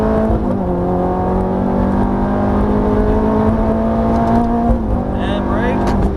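A Ferrari F430 engine revs and accelerates on a racetrack, a loud, steady rising drone with strong harmonics heard from on board, with a brief shift dip near the end.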